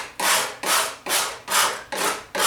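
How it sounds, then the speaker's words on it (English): A fillet knife scraping material off a part of a 1985 Yamaha YTM 200 three-wheeler makes six even, rasping strokes in a regular rhythm. Each pass is loud and close, with short pauses between, and no talking. "Fishing knife, a fillet knife, just takes it right off."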